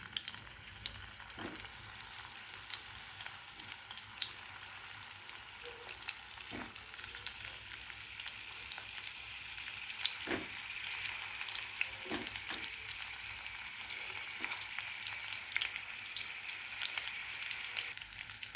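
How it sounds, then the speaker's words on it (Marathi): Stuffed brinjals sizzle and fry in hot oil in a kadhai, a steady crackling hiss with occasional sharper pops and spatters, close and moderately quiet. "कढईत तेल तापायला ठेवलेले आहे। आता वांगे टाकून घेऊ,"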